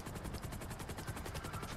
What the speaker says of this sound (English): drop the chopper down,